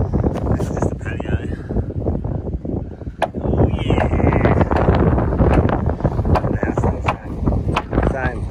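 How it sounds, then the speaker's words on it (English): Strong wind buffets the microphone outdoors at a freshly poured concrete patio slab in Australia, gusting roughly and continuously with brief faint rustles throughout. "Very windy."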